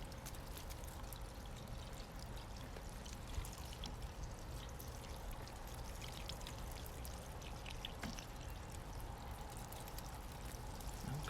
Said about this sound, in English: make sure you get all of the sides wet until the water starts to come out the bottom